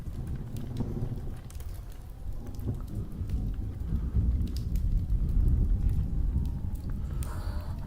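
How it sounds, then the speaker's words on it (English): Steady, fairly loud rain falls on a surface, with low rumbling thunder building underneath toward the middle, as a continuous storm wash with no talking. "You got to count the seconds between the thunder, isn't it? And that's how far away it is."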